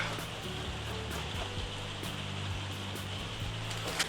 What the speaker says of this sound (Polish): Teraz to wszystko zetrę na tarce.